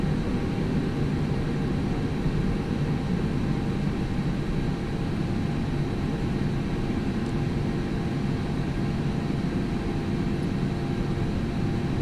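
An Air China airliner taking off from runway 05 right at Taoyuan International Airport, a loud, steady, broadband engine roar that holds unbroken throughout, heard from inside the aircraft.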